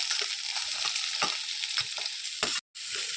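Long-cut onion strips frying in oil while making methi malai paneer, a bright continuous sizzle broken by stirring scrapes and clinks of a spatula against the pan, with a brief dropout near the end.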